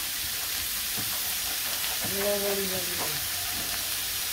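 Green plantain slices frying in oil with a continuous soft sizzle, a short tonal whine and light stirring noises rising briefly partway through.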